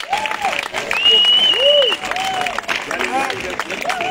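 Worship concert audience applauding in a hall, a dense steady wash of clapping that fills the space, with whistle-like tones and voices calling out over it.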